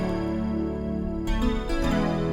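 Glass Xylophone Stack pad from the Alchemy synth's pad section, played in a lower octave: sustained, layered chord tones with a bright shimmer, shifting to a new chord partway through, soft and alone.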